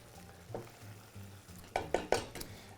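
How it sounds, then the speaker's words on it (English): Sunchoke risotto stirred in a pot, faint low simmering under a few quiet scrapes, then several sharper spoon-against-pot knocks close by toward the end. "And again, continuing to stir our risotto."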